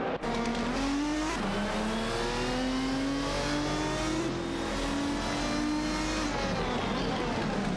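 Racing cars in a video game, an Alzen Porsche 996 Biturbo and a Lamborghini Murcielago R-GT, roar loudly at close range with a sustained high engine whine that rises through gear changes, steady and continuous with no pauses.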